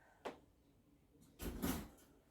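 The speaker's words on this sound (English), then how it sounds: "And now that they're out, I'm going to close the door." A door is closed, with a short knock first and then a louder sliding thud-and-rattle shortly after, fairly quiet overall in an indoor room.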